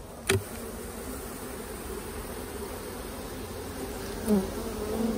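Honeybees drone in a steady, dense buzz from an opened hive crowded with small hive beetles, close and continuous, with a couple of brief knocks from handling the frames.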